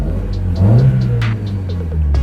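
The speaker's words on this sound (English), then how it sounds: "revs nice." A Mazda MX-5 tribute car's engine revs up close, the note climbing and then easing back over a steady idle rumble, with faint ticking in the background.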